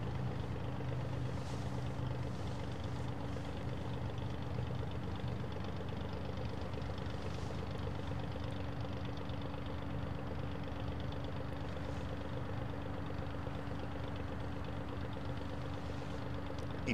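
A floatplane engine idles with a low, steady, faint drone that holds evenly throughout, heard from a distance with no talking.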